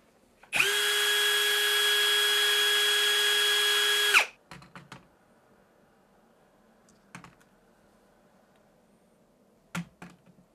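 A Ryobi R18PD7 18V cordless hammer drill runs unloaded at full speed with a loud, steady motor whine for about three and a half seconds, then cuts off, leaving a few faint clicks and handling knocks.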